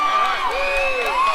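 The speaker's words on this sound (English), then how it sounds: "you can see the crowd getting hyped up" A crowd cheering and whooping at the 2024 World Ninja League Championships teen female stage 3, a loud, continuous roar with shrill whistling shouts rising and falling throughout.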